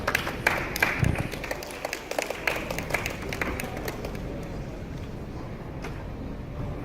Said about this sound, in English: So can we have a round of applause